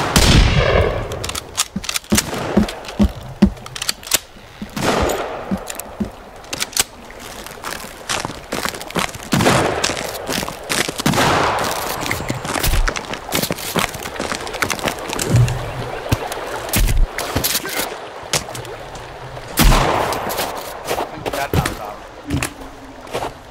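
Gunfire from the video game Sons of the Forest comes as scattered loud cracks and short bursts over a noisy background.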